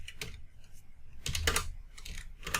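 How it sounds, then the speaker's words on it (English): A computer keyboard clatters in bursts of rapid key taps, close and moderately loud, with brief pauses between runs and no speech. "you need to go to browse and type in system.value tuple"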